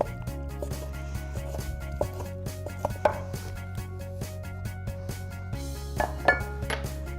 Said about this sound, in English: So we've got our tri-tip that's been resting. Slice up thin.